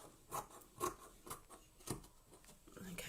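Scissors snip through an old cotton t-shirt being cut into yarn, a series of about five soft, close crunching cuts at an irregular pace under faint background noise.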